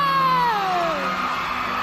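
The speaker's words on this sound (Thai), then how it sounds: "ขอเสียงกรี๊ดดังๆ" At a Thai TV show event, an audience screams and cheers in a loud, sustained wave of high-pitched shrieks that slowly falls in pitch.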